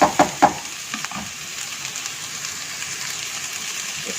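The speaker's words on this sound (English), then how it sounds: "And also the cabbage goes in. Give it a nice fry there" Shredded cabbage frying with capsicum in a pan for a Chinese mandarin fish dish: a few sharp clatters at the start, then a steady, even sizzle that fills the rest of the stretch.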